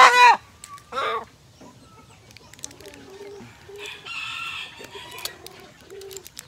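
A rooster kept for breeding crows loudly near the start, then clucks and makes shorter calls over the following seconds, with quieter farmyard fowl noises in between.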